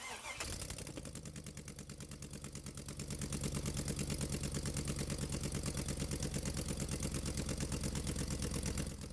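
A car engine cranks and starts, then settles into a steady, rhythmic idle that stays close and fairly loud, with a slight rise in level after a few seconds.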